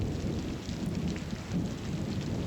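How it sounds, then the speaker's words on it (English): Steady wash of rain with low rumbling as a weather effect in the Strategic Command World War I strategy game, a continuous even hiss and low roll with no talk. "it's going to be raining and muddy and horrible conditions"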